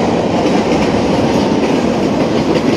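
Train passing close on rails, a loud, steady rumbling roar with faint clickety-clack of wheels throughout.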